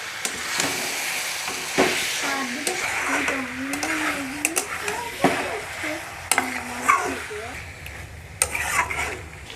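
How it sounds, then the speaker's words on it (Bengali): Marinated country chicken hits an oiled, fried spice paste in a pan, giving a steady sizzle with scraping stirs and clatters, while a voice talks over it throughout. "এবার দিয়ে দিচ্ছি ম্যারিনেট করা মাংসটা।"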